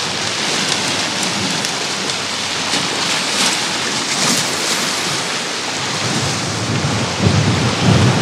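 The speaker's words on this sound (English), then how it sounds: "I think that might be the end of the rain" Heavy rain pours during a land-based fishing trip, a dense, loud, unbroken hiss of drops drumming on surfaces with a low rumble under it, steady for the whole stretch with no voices.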